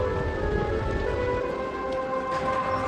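Rain falls as a steady patter under a low continuous hum and faint tonal background, even and moderately loud with no voices.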